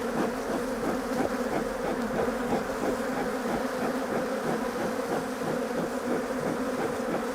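A dense, steady buzzing of many honey bees swarming close by at an open poly hive, a continuous droning hum with pulsing wingbeat texture and no voices.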